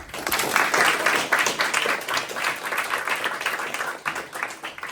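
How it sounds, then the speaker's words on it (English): Applause from the audience at a school business panel kickoff, a brisk burst of many hands clapping, fairly close and full, with individual claps standing out and the sound tapering slightly toward the end. "So if we could give them a round of applause."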